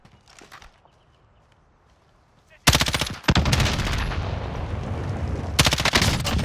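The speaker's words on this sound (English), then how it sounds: "They're probably better off shooting them with the AR." Loud bursts of assault rifle fire in a Call of Duty match, rapid automatic volleys starting after a quiet opening and continuing in dense clusters to the end.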